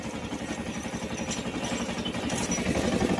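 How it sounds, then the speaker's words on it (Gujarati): A mini tractor pulling a rotavator through a cotton field gives a steady, rhythmic chugging engine with faint clatter, fairly quiet and slightly distant, no voices. "અત્યારે છે ને ટ્રેક્ટર હાલે છે લોના બીજા ઘરમાં હાલે છે"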